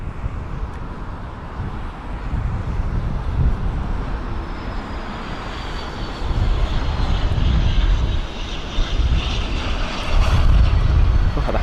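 A small jet lands at London Heathrow on a windy day, its engine roar steady and loud with rumbling low end, swelling as it nears and rising further near the end as reverse thrust kicks in.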